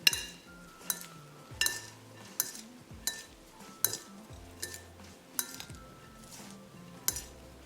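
Spoons clinking against a bowl as cumin powder, coriander powder and garam masala are stirred together for a spinach paneer paratha filling, giving a steady run of sharp metallic taps about once per second, close by and with no talk.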